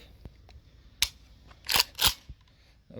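Several sharp, muffled cracks ring out at uneven intervals, two louder ones close together, like suppressed shots with mechanical clicks between, from an AKS-74U rifle fitted with a PBS suppressor.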